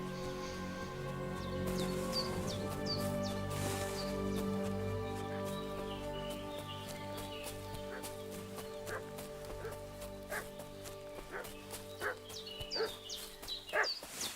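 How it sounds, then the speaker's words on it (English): In the medieval game Kingdom Come Deliverance 2, a dog barks and yips in short repeated bursts over a sustained musical background, growing busier and more agitated toward the end. "What's that dog making such a fuss about?"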